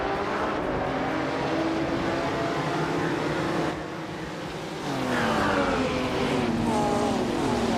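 Race cars, including a 1957 Ferrari 250 Testarossa, launching off the start line in a video game race, engines droning steadily then revving higher with rising pitch sweeps after a brief dip.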